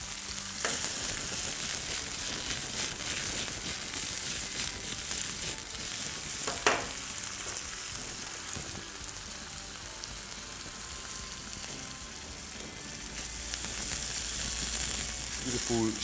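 Roughly chopped garlic and vegetables fry in a hot pan, giving a loud, continuous sizzle throughout. A brief clatter of stirring comes midway.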